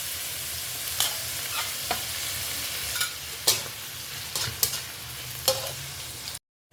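Small shrimp and liver sizzle in a frying pan for pancit bihon and canton, a steady close frying hiss with repeated scraping stirs of the utensil, ending abruptly, no voices.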